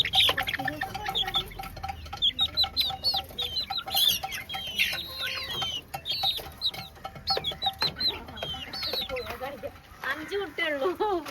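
Hens cluck and chirp repeatedly at close range around a home, short rising calls in irregular bursts mixed with people talking.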